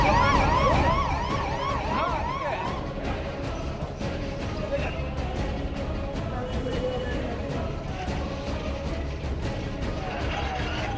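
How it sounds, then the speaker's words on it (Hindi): A police siren wails on a highway in Begusarai, Bihar, in the evening after a shooting, loud and rapidly warbling at first, then continuing beneath layered crowd noise and other sirens. "सन्नाटे को चीरती सायरन की आवाज"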